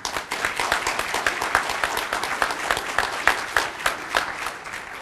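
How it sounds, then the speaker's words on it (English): Audience at a boxcar opening ceremony applauding three singers and a band after the Star-Spangled Banner, a steady wash of many hands clapping at close range, loud and unbroken for the whole stretch. "could we have another round of applause for those three singers and the band?"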